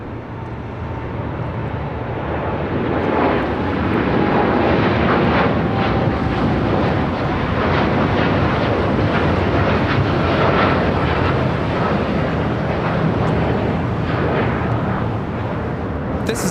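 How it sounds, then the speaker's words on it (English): An American Airlines Boeing 787-8 Dreamliner takes off at LAX, its engines building into a loud, sustained roar that swells after the first few seconds and stays strong to the end. "This is American Airlines Flight 27 taking off to Tokyo Haneda on the 787-8 Dreamliner."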